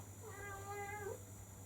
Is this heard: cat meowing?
yes